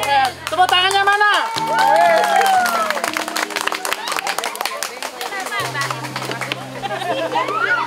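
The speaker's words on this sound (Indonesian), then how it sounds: "Tepuk tangannya mana?" Applause and clapping from a crowd at a gathering marking a new house for an elderly man, sustained and fairly loud over music, with voices and chatter mixed in.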